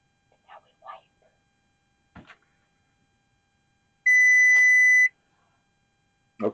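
Kitchen timer gives a single loud, sustained electronic beep lasting about a second, with a few faint scraping and handling noises before and after it.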